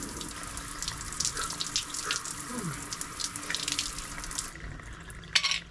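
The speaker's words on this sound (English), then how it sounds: "so I'm just gonna have an outdoor shower because that's what we like to do, right?" Water runs steadily from an outdoor shower beside a camper van on a cold day, a continuous close hiss and splash that cuts off near the end, followed by a brief knock.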